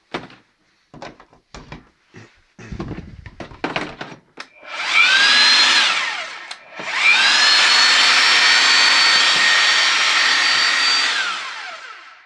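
A Bosch GBH 5-40 D SDS-max rotary hammer starts after a few handling clicks, then runs at maximum speed in two loud, steady, whining bursts that spin up sharply and wind down, close by with no speech.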